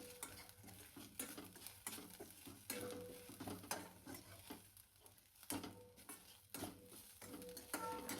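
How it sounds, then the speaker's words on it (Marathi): Grated coconut dry-roasting in an oiled kadhai, with a spoon scraping and stirring in steady repeated strokes over a faint sizzle, close and alone with no talk. "आपण कढईला जे तेल लावले ते पण सगळं निघून जाते आणि आपलं खोबरं पण छान भाजले"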